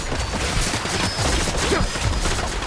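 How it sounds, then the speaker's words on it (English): Dense, continuous gunfire from a firefight in The Outer Worlds video game, a steady loud barrage of overlapping shots lasting the whole stretch, with no talk over it. "Returning fire!"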